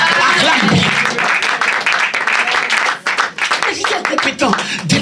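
A church congregation claps loudly and continuously, with crowd voices mixed into the applause throughout.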